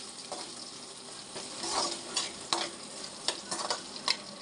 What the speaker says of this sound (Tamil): இப்போ மறுபடியும் இதில் எல்லாத்தையும் நல்லா வதக்கிக்கலாம்